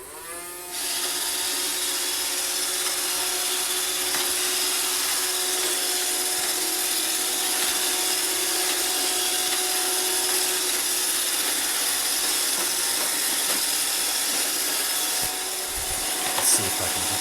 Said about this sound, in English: Okay, so there's the Roomba